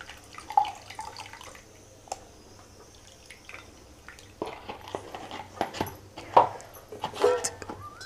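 Tamarind pulp liquid is poured into a pot of fresh coconut rasam, giving close, intermittent drips and small splashes over a quiet kitchen background.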